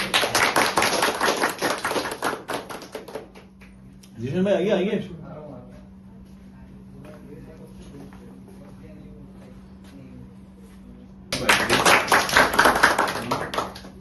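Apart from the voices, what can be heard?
audience applause for the poet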